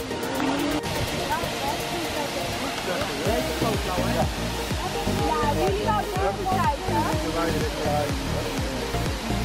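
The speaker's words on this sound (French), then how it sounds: "Et voilà, on arrive au pied de la cascade." A steady, full roar of falling water at the foot of the Sillans-la-Cascade waterfall, with a crowd of people chattering nearby over the constant rush.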